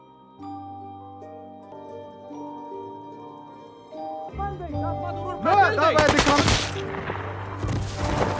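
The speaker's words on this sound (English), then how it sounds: "The sound of gunshots echoes through the canyon" Rapid bursts of gunfire crack and echo through a canyon in Afghanistan, sharp volleys building from a quieter tonal opening into dense, loud overlapping shots with long reverberant tails.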